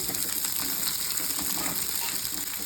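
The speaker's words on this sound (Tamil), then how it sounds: "சின்ன வெங்காயம் தான் எடுத்திருக்கேன், அது போட்டுக்கிறேன்." Small onions (shallots) frying in hot oil, giving a dense, continuous crackling sizzle that stays even and close throughout, with no talk.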